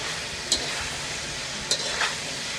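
Steady hissing sizzle of shrimp frying in a pan, close by, with a few brief scrapes of stirring.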